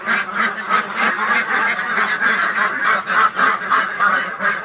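A crowded flock of Pekin ducks on a farm gives loud, overlapping nasal quacks in a dense, continuous chorus, close by and with no speech.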